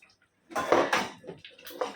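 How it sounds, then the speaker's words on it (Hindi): A spoon stirs pumpkin and prawn curry in a pot, giving a short burst of wet scraping and clinking against the metal after a brief silence, close and moderately loud. "चम्मच चलाएंगे, आस्ते चम्मच चलाने का"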